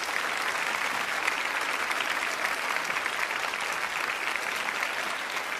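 A studio audience applauds at a televised Quran memorisation competition. The clapping is dense and sustained at an even, moderate level, with no voices over it.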